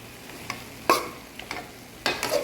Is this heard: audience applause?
no